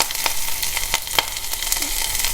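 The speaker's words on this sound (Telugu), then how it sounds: "ఆయిల్ వేడైందండి, పోపు వేసేస్తున్నాను. ఆవాలు, జీలకర్ర, పచ్చిశనగపప్పు, ఎండుమిర్చి," Mustard seeds, cumin, chana dal and dried red chilies sizzle in hot oil for tempering, with scattered sharp pops and crackles over a steady frying hiss.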